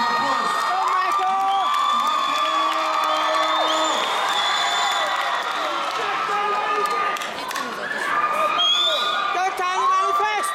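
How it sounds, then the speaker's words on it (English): Audience at a Bring it On 2012 show cheering, whooping and shouting loudly and continuously, with children's voices and crowd noise filling the whole stretch. "Round of applause."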